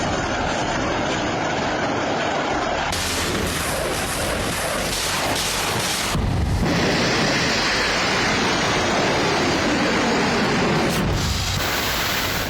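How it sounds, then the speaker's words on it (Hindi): Dense, continuous roaring rumble with broadband noise and shifting intensity, sustained heavy artillery blasts and explosions from the Nagorno-Karabakh war zone, loud and without talk. "लगातार यहाँ पर आवाजें धमाके की आ रही हैं"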